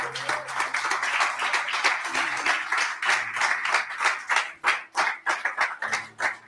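A church congregation claps for Jesus, steady rhythmic hand claps from many people close by, pulsing in time throughout with a voice faintly audible underneath.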